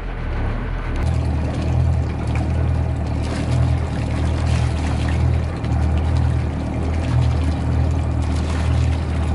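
An Island Packet 38 sailboat's engine runs with a steady low throb while cooling water gushes and splashes out of the exhaust in rhythmic surges, loud and close, with no talk.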